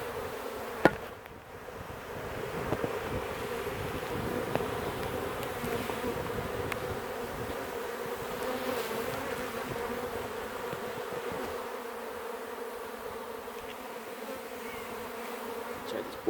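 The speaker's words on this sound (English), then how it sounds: "politely ask these bees to move out of the way, just so we can put a lid on." A dense, steady hum of many honey bees buzzing close by around a hive, continuous and even, with an occasional faint knock.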